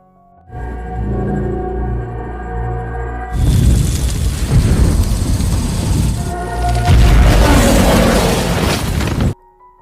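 An atomic bomb explosion: a rumbling drone swells and then gives way to a massive, roaring blast that sustains loudly, briefly dips, surges again and cuts off abruptly.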